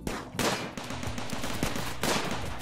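Defensive gun turrets firing during a RimWorld battle against mechanoids, rapid bursts of gunfire in two dense volleys with a brief gap between, loud and sustained.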